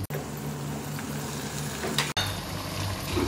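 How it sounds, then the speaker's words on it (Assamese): Ground masala and onions frying in a pan for Assamese-style local chicken curry, a dense steady sizzle with scraping stirs and a sharp clink of a utensil against the pan. "এইখিনি খুব ভালদৰে ভাজি লম।"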